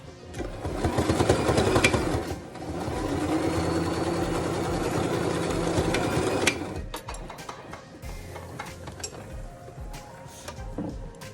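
A sewing machine runs in a long steady stitching burst along a mask edge, loud and close for several seconds, then stops, leaving faint handling clicks and rustles.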